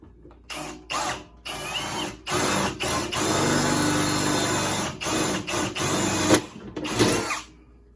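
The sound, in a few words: power drill drilling holes for John Deere seat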